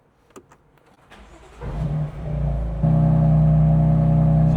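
A tuned BMW F82 M4 engine running E85 fuel cranks briefly, catches and starts, then settles into a loud steady idle close by.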